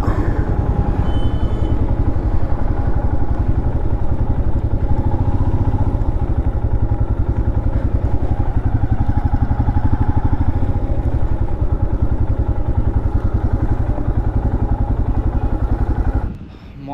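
A motorcycle engine runs steadily and close at the Rang Ghar parking area in Sivasagar, a constant loud mid-pitched drone with light clatter that cuts off abruptly near the end.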